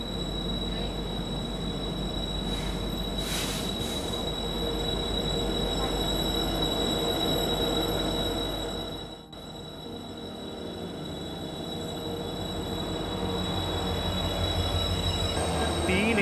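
A long Vasco passenger train hauled by three engines rolls past steadily and loudly on a ghat section of Indian Railways, a continuous rumble with high wheel squeal running throughout and a brief dip midway.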